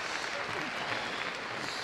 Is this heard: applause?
yes